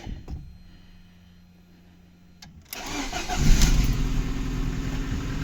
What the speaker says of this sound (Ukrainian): Будемо пробувати запускати двигун. Перший пуск.